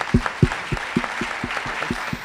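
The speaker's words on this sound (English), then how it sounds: "so a round of applause for Council." A sparse audience at a pitch night claps, a brief round of separate, evenly spaced handclaps that fade slightly toward the end.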